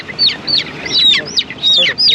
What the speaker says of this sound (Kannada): ಇದೆಲ್ಲ ಹುಂಜೆ ಅಲ್ವೇನ್ರಿ